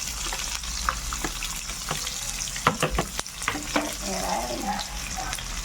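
Onion and garlic fry in a pan after pork kasim for pinakbet, with a constant close sizzle and sharp spatula scrapes and taps; a short word is spoken.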